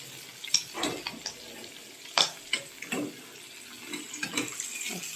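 Hilsa fish frying in hot oil, a close crackling sizzle with sharp spitting pops and occasional stirring clatters.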